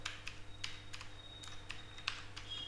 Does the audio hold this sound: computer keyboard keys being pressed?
yes